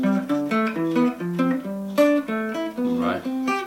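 Scales played on guitar in parallel fifths, paired notes stepping up and down in a steady, even rhythm, clear and close with no talking.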